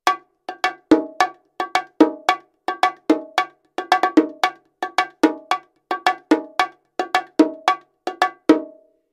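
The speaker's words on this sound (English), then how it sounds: "So here's what this sounds like." Bongos struck with sticks rather than hands in a lively, repeating pattern of sharp, bright, ringing hits with quick decays, close and loud throughout, no voices.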